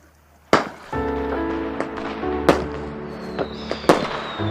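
Fireworks exploding during a night celebration in Korea: several sharp bangs and crackles spaced across a few seconds, each followed by fizzing and whistling trails, loud and fairly close, with no talking.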